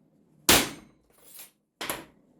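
A center punch is hammered against a steel motor bracket to mark drill points: two sharp metallic strikes with a softer tap between, close and crisp, each ringing briefly before silence in a quiet workshop.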